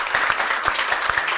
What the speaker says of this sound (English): Round of applause to Lucha for hosting us.